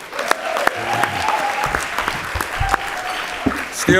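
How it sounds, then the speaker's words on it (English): An audience at an awards gala in Baltimore breaks into loud, sustained applause with dense, close clapping that runs the whole stretch, a voice faintly audible beneath it. "Mr. Bogle, give him another round of applause"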